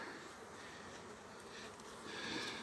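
Honeybees buzz in a steady, close drone during a November hive inspection and transfer, agitated and continuous, with the swarming hum swelling a little toward the end.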